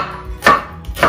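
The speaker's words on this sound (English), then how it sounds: "It is very important to have your onion very finely chopped." A kitchen knife chops white onion finely for guacamole on a cutting board: two crisp, evenly spaced strikes, close and alone, with no talk.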